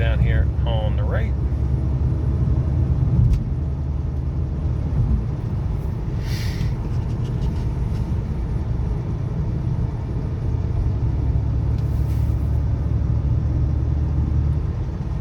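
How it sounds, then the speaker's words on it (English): Inside a 2003 BMW 325xi driving on the road, a steady low engine and tire rumble runs throughout, with brief faint higher tones and a few soft knocks. "Super quiet ride, nice and smooth."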